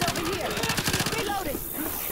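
Rapid automatic gunfire in the zombie shooter Left 4 Dead 2, a dense burst of repeated shots up close with a voice shouting over it.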